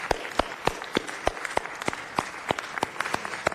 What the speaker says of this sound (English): Let's give him a round of applause for that.